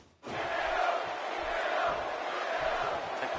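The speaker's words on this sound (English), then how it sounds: "The crowd chanting for Hideo." A wrestling arena crowd in WWE 2K18 chants for the wrestler Hideo, a dense, sustained roar of many voices that swells in abruptly and holds steady at a moderate level.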